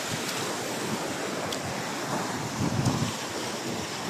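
Steady wash of surf and wind rushing across the microphone, with a slightly stronger wave swell near the end and no voices.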